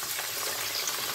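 Strips of zilzil tibs meat frying in oil, a steady close hiss and crackle of sizzling with no speech.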